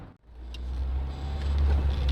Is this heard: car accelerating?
yes